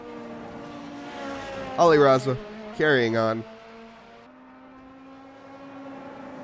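LMP prototype race car engine at Road America, a sustained droning tone with two brief loud passes of rising pitch as the car navigates lap traffic, heard under commentary voices.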